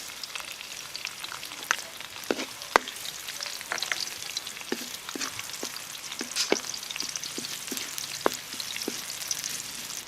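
Onion frying in a pan alongside golden crispy pork fat for kaldereta, a soft continuous sizzle with scattered pops and occasional stirring clicks, fairly quiet and close.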